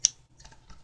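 Scissors cut into a plastic PET bottle along a scored line while a water rocket skirt is being made, giving one crisp snip followed by softer crinkling clicks of the plastic, close up and quiet.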